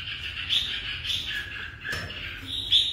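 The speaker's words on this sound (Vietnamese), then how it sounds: "Mình rất thích cái chim này nha anh em, thật sự mình rất thích cái chim này nha." A kept red-whiskered bulbul sings a run of bright, repeated chirping and whistled notes at moderate distance over a low background hum, with no talking.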